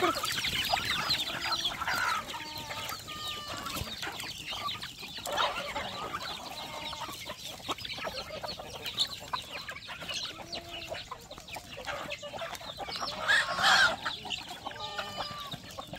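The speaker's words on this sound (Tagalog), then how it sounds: "ang ating mga alagang manok" Farm chickens, with chicks, turkeys and ducks nearby, clucking and chattering in a busy flock, many overlapping calls near and far, with scattered louder clucks throughout.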